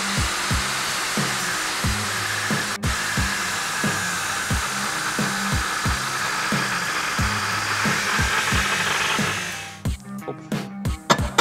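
A large angle grinder cuts into a power steering pump, a loud steady high whine with rhythmic pulsing from the work, then it spins down and a few sharp metallic clanks follow.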